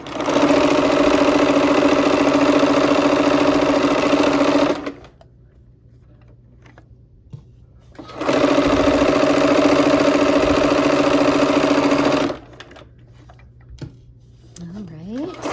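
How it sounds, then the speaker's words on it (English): A sewing machine stitches quilt seams joining rows together, running loud and steady in two long bursts of about four to five seconds each, separated by quiet pauses with faint handling noise. "I'm going to sew those seams now to connect the rows"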